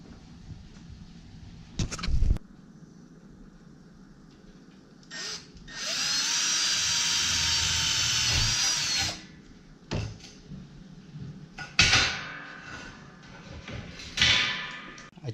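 A power drill drives two screws to fix a Wall Control pegboard piece to the side of a workbench, with two sustained whirring bursts and short clunks and handling knocks between them, close and loud.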